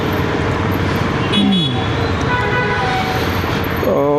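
Busy night street traffic in Bangalore, a steady roar of engines and tyres with several car horns tooting, including a longer honk partway through and another near the end.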